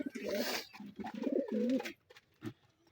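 Giribaz pigeon cooing close by at a home, several throaty coos in quick bursts mixed with other faint bird sounds, with a voice talking at moments.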